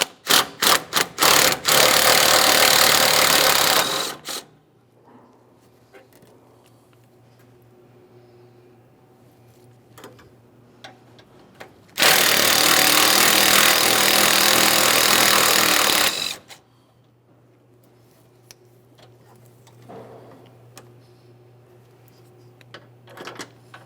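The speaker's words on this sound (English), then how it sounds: "we can start removing some of our mounting bolts" A power ratchet or impact tool removes 10mm mounting bolts on a 2008-2017 Mitsubishi Lancer 2.4L during radiator replacement, giving two loud sustained buzzing bursts of about four seconds each, close up, with quiet workshop ambience between them.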